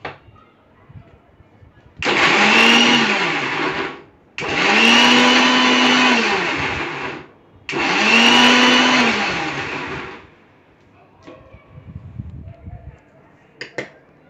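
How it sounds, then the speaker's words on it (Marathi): A kitchen mixer grinder whirs loudly through three bursts of about two to three seconds each, grinding ginger and garlic with oil into a paste. Short pauses separate the runs, and soft handling noises follow at the end. "ते पण मी मिक्सर लावून घेते."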